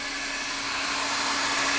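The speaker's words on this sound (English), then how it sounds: "a little bit of hair dryer, not to burn the paint, but the heat just helps it just lay down a little better" A hair dryer blows hot air onto fresh paint on a Kawasaki wheel being restored, a steady close whooshing roar with a faint whine that holds constant throughout, with no voices.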